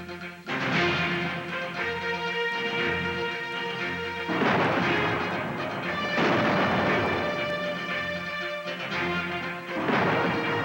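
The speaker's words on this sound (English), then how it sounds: "the AMX-10RC, armed with an impressive 105mm gun." A French AMX-10RC armored car fires its 105mm gun in the desert, with heavy booming blasts and rumbling reports that repeat through the stretch over a dense, loud background, and no talking.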